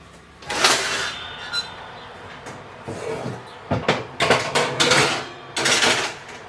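Metal cookie tray holding Christmas Grinch cookies slid into a home oven set to 350 Fahrenheit, heard as a series of clanks, scrapes and bangs of metal against the rack and door, close and fairly loud, with no talking.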